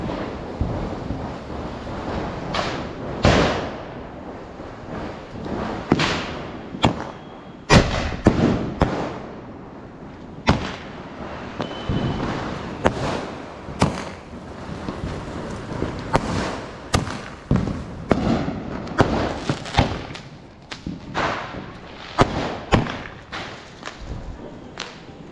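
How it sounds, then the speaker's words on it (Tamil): Diwali sky-shot fireworks, a 60-shot aerial cake, burst overhead in a long run of sharp cracks and booms, some spaced apart and others in quick clusters, loud and echoing, with no talking. "அதுக்கப்புறம் இங்கே ஒரு வானவெடி."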